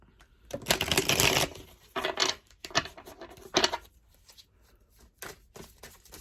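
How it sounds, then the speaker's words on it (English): Tarot cards riffle and shuffle in several quick bursts of crisp flapping, close by, separated by short pauses and soft handling sounds. "Let me shuffle."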